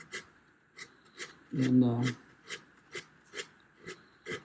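Rhythmic rasping strokes of hand sanding on pallet wood, rounding over a guitar edge, repeat steadily, close by, with a brief spoken word partway through.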